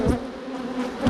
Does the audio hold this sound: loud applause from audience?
no